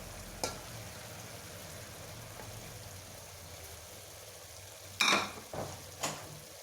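Peas are tipped into a pan of potato and fenugreek sabzi, which sizzles faintly and steadily, and a few sharp clattering drops and scrapes stand out near the end.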